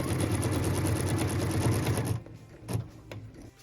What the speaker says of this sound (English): What we're stitching now is the cut line to put piece number 5 into our block